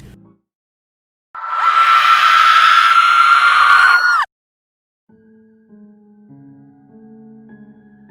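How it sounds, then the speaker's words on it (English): A loud, piercing shriek from a banshee, a ghostly female spirit in a Halloween fantasy tale, holds steady for about three seconds, then cuts off abruptly; a soft, low tonal passage follows after silence. "the ghastly figure turned, opened her mouth wide, and let out a skull-splitting shriek"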